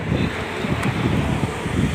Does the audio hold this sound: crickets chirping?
no